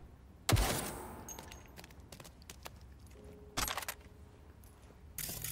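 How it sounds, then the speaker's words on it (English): Gunfire in Cyberpunk 2077: a loud sharp shot, then a second burst a few seconds later and another near the end, with small clinks and rattles between them. "They were shooting at us, bro."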